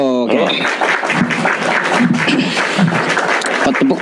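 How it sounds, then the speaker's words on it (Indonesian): Audience applause at a live interfaith religious discussion event, a steady wash of clapping filling the room with voices and cheers mixed in throughout. "Tepuk tangan buat abangnya."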